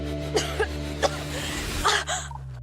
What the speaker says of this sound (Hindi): तुम 3-4 दिनों से खांस क्यों रही हो इतना?